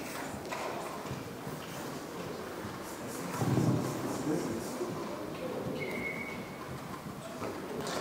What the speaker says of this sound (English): You trot around in the ring, if possible.